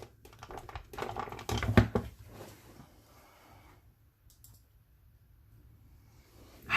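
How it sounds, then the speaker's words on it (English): A paper punch is pushed through thick card stock in a few close, crunching clicks and taps, loudest near the start, followed by quieter handling noises and near silence. "What I care about is that I have to get up to punch through this paper"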